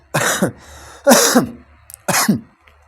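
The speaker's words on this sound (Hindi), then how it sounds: "क्षमा चाहता, खांसी आ रही है।" Three harsh coughs, evenly spaced about a second apart, sound close up, with short quiet pauses between them.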